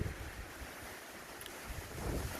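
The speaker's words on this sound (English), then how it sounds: "It's not always windy, but we just got a gust now." Outdoors on a rural property beside a campfire, a gust of wind roars across the microphone as a broad, rushing noise that swells toward the end.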